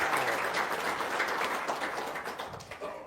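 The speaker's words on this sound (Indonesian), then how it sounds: "Tepuk tangan dong" An audience applauds at a seminar on paying off debt, a fairly faint, dense patter of many hands clapping that gradually tapers off toward the end.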